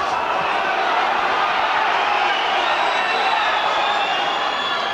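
A dense, steady roar from the crowd at the Steve Robinson vs John Davison boxing fight fills the arena without letup and holds at an even level throughout.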